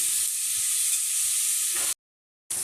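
Onions sautéing in a pan for a Telugu-style mutton tomato curry, a steady close hiss and sizzle that cuts out briefly and returns.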